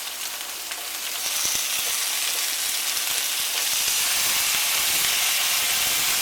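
Onion and pear sizzle and fry in a pan, a steady loud hiss that swells after the first second and holds, with faint stirring scrapes under it.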